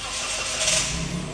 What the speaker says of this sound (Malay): Kereta telah pun start.